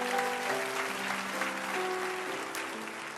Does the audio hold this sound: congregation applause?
yes